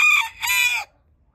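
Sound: rooster crowing

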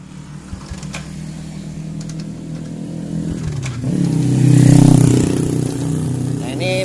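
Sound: Kawasaki Kaze R motorcycle engine kick-started and running

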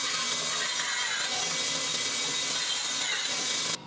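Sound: small bandsaw cutting pine

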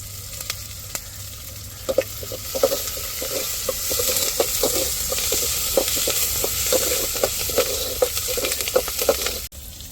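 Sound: curry leaves sizzling in hot oil for chicken curry

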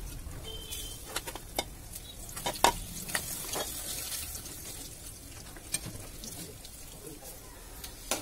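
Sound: hincha greens being fried

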